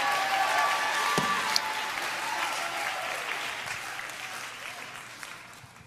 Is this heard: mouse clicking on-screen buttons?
no